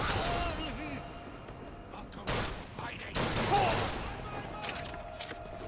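Bioshock Infinite gunfire: a few sharp shots and bursts ring out in quick succession under a speaking voice, with mechanical clatter in between.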